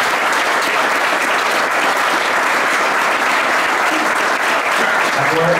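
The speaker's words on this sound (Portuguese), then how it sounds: "Vamos agradecê-los, acolhê-los com uma sala de palmas." A church congregation gives a warm round of applause to welcome newcomers, the clapping loud, dense and even from start to finish with no pauses.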